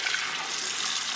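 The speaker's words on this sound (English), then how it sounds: "What we're going to do is we're gonna add really cold water." Cold water from a kitchen tap pours steadily into a pot of peeled potatoes, a close, even hiss and splash that lasts the whole short stretch with no voices.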